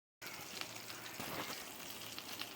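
Spice paste frying in a pan, a steady dense sizzle that holds evenly and close throughout after a brief silent start.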